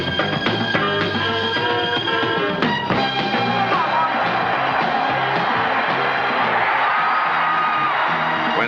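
Dense, continuous roar of Missouri Tigers fans cheering and yelling in a packed stadium during a 1980 Liberty Bowl football game against Purdue, loud and sustained throughout with band-like tones mixed in.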